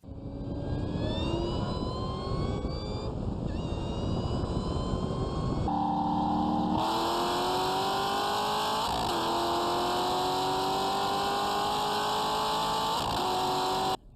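A lightly modified Corvette sports car engine revs and accelerates, its pitch climbing in long sweeps, loud and steady throughout with no voices.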